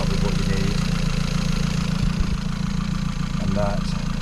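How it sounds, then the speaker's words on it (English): A small fishing boat's engine idles on the water, a steady low chugging drone throughout with a few brief knocks and a short rattle, while people talk over it. "we're going to shut the engine off in a minute"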